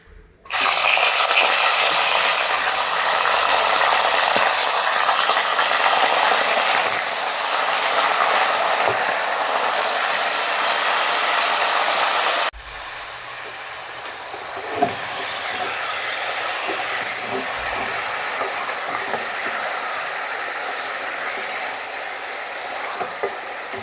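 Chicken pieces dropped into hot oil with popped mustard seeds, urad dal and curry leaves for a chicken curry: a loud, steady hissing sizzle that eases into a quieter crackle after a sudden drop partway through.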